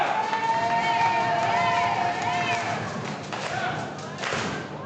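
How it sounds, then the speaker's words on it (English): Wrestler thrown backward over the top rope onto a concrete arenna floor, a heavy thud under loud crowd cheering and noise, followed by another sharp impact near the end. "Low bridge sends Timur down to the concrete floor."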